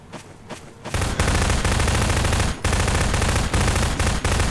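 Sustained automatic gunfire in the Garry's Mod Prop Hunt game, a loud dense burst of rapid shots lasting several seconds with brief pauses, preceded by a few quieter clicks.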